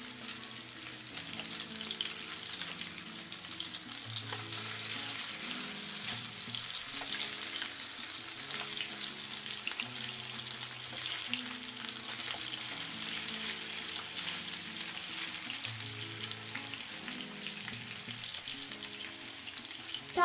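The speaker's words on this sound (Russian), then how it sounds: "только жир, и на котором жарятся котлеты" Steady crackling sizzle of homemade meat patties frying in hot fat, continuous and close, with a low hum running underneath throughout.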